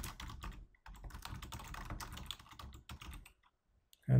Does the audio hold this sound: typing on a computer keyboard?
yes